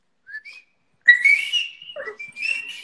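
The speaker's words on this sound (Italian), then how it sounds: "fai il fischio" A person whistles close by in otherwise silent surroundings, starting with two soft short notes and then a louder, longer whistle with pitch slides and several trailing notes.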